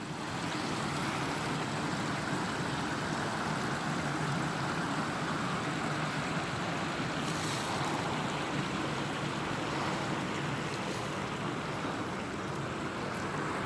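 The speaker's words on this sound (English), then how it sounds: "So isn't there running water for a minute," Running water flows through a city canal in a park, a steady broadband rush holding at an even level throughout with no talk over it.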